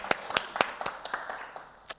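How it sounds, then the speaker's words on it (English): A studio audience at a live World Cleanup Day broadcast in Pristina, Kosovo claps, with about eight or nine sharp separate claps spread over two seconds, close and moderately loud, with no talking. "A round of applause from our studio."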